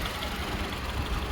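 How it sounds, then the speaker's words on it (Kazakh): A Toyota Camry 55 with a 2.5 engine and automatic gearbox idles smoothly, a steady low engine hum heard up close with no talk. "мотор ровно эле иштейт."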